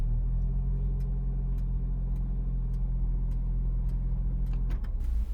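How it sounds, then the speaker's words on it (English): A 2019 Lexus RX300 engine runs at a steady idle inside a multi-story parking building, a low even hum with faint intermittent clicks, fairly quiet and uninterrupted until a brief shift at the end. "The engine continues to work."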